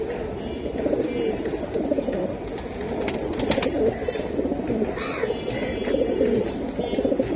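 A hammer pigeon, also called a black military pigeon, coos at close range in repeated low rolling calls, with other birds and background noise around.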